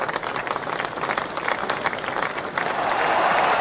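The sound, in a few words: cricket crowd cheering wicket of Tamim Iqbal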